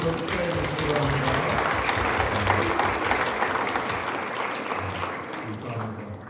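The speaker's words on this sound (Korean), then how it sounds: "박수로 축하해 주시기 바랍니다" A church congregation applauds at an ordination service for newly appointed deaconesses: dense, sustained clapping that fills the whole stretch at steady loudness, with faint voices underneath.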